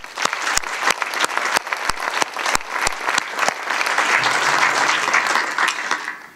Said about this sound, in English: I would like to have applause for that.